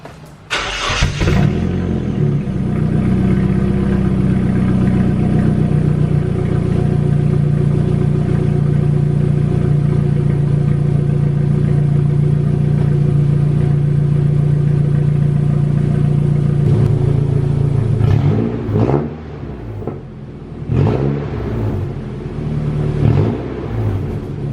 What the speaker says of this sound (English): I'm going to go ahead and do the first start now.